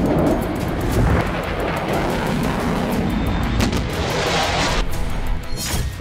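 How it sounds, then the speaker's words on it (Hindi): Israeli air strikes shake Beirut: heavy, rumbling explosion booms roll out in dense bursts, loud and continuous, with no voices heard. "बेरूत धमाकों से गूंजने लगा।"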